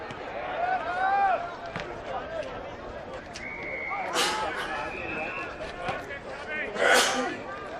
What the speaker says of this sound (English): not a nice time to have a sneeze